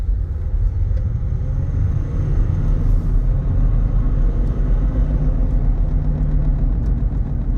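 A 2022 Jeep Gladiator Sport with the EcoDiesel engine drives along, its cabin filled with a steady low rumble and tire vibration, continuous and fairly loud with no talking.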